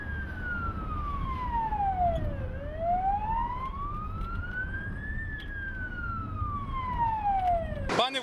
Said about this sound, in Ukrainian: їде спецмашина з сиреною, з маячками